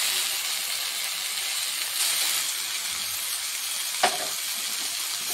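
Ginger and chopped tomato fry with spices in a pan, a steady close sizzle and hiss running throughout, with one brief knock of a utensil near the end; no talking.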